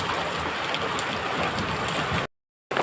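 Steady rain pours over a Himalayan hill village, a dense close hiss of drops hitting surfaces that runs unbroken apart from one short cut to silence, with no voices.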